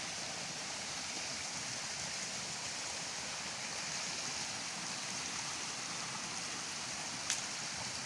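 Steady broadband rush of clean drinking water flowing from a tap or outlet at a home, used for washing hands, continuous and close with no talking over it.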